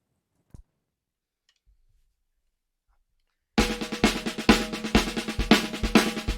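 A drum exercise played on a Mapex drum: after about three seconds of near silence with a couple of faint taps, a loud, steady stream of rapid, evenly spaced strokes begins and continues to the end.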